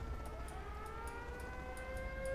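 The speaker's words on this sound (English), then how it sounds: "Hearing air raid sirens like crazy." Air raid sirens wail in Generals Zero Hour, several overlapping rising tones sounding at once over a rumbling battlefield backdrop, with sharp periodic clicks and no speech.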